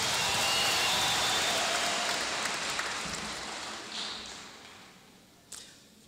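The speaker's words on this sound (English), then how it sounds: "A big round of applause for our orchestra." Audience applause at a Malawi University of Science and Technology graduation ceremony, a broad, dense wash of clapping from a large crowd that slowly thins and fades toward the end.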